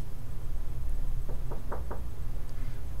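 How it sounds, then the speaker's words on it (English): Four quick knocks land on a door in a short, even sequence. They are clear but sound a little distant, over a low steady background hum with no talking. "someone's knocking on the door"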